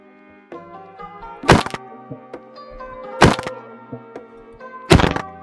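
Minecraft PvP falling critical hits landing on an opponent: three sharp, loud cracking impacts spaced a couple of seconds apart over soft background music, with lighter clicks in between.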